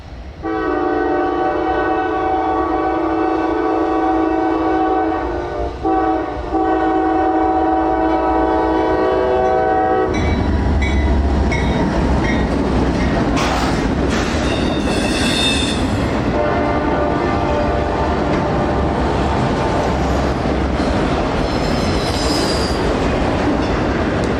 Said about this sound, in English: The next morning I awoke to the sound of a glorious DC Gevo.